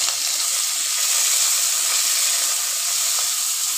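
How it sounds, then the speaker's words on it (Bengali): Prawns with toothpicks through them fry lightly in hot oil, a loud, steady, close hiss of sizzling that barely changes over four seconds, with no voices. "চিংড়ি মাছটাকে আমি 20 সেকেন্ডের মতন ভেজে নিচ্ছি হালকা করে।"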